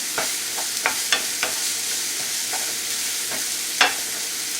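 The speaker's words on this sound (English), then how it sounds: "So we're gonna add all our onions. Then we're gonna mix it up with a spoon." Onions stirred with a spoon in a frying pan, giving a soft steady sizzle broken by several scattered scraping clicks, with no voices.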